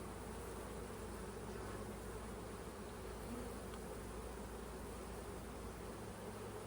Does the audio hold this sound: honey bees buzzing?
yes